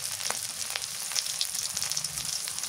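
Onion paste and chilies sizzle and crackle in hot oil for a small river fish curry, a steady close frying hiss with scattered pops and spits, no voices.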